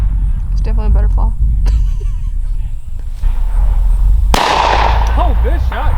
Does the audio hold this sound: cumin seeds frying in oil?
no